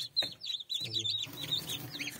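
Newly hatched chicks on a farm cheep in quick, high, repeated peeps while they are given starter feed, with a low voice murmuring briefly underneath.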